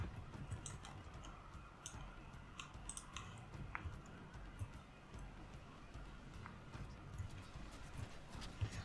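Quiet, distant horse hoofbeats clip-clop in an irregular patter in the strategy video game Invasio Barbarorum Ruina Romae, beneath a low ambient rumble, with occasional faint clicks.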